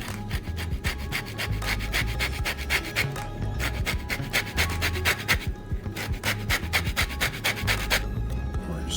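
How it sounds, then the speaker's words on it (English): An orange is rubbed across a grater for zest, giving close, rhythmic scraping strokes in quick bursts with brief pauses between them, with no talking. "We're going to add a little orange zest."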